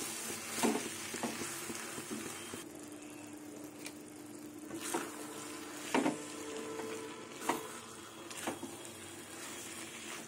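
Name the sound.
fried chicken and cabbage stirred in a frying pan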